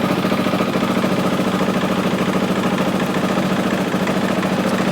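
Honda XR400 motorcycle engine running steadily at idle, a close, loud, even low throb with a rapid regular pulse and no talk over it.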